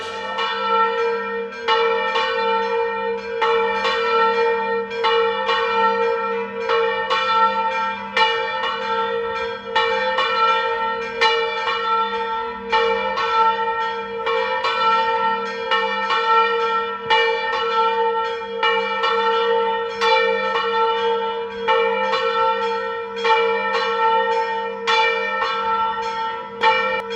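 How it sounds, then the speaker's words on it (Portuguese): Church bells ring steadily to announce a procession, loud and sustained, with repeated strikes over a continuous hum of overtones and no voices. "o sino onde que vai sair essa procissão, ele toca para anunciar"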